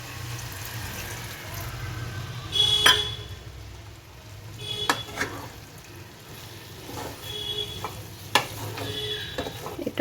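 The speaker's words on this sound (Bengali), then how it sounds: "আমি খুব অল্প জল দিচ্ছি।" Fish heads and cabbage frying in a pan as a little water goes in, a continuous close sizzle broken by spatula knocks and scrapes and brief splashy bursts, with no talking.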